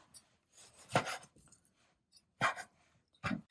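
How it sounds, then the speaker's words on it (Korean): A knife cuts through pork on a cutting board along the grain, producing a few separate thuds and scraping strokes with quiet gaps between them, close and without speech. "고기를 이렇게 길이로다가 큼직큼직 썰었으면요"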